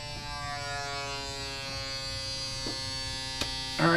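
A small electric suction tool used on an Arrma Limitless RC car build runs with a steady, close buzzing whine that holds throughout, with a couple of brief clicks near the end.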